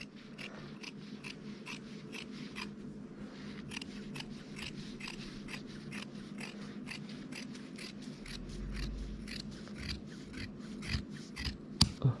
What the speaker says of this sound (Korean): 박았으면은 얘들을 시접만 요래 남겨두고 이렇게 잘라주세요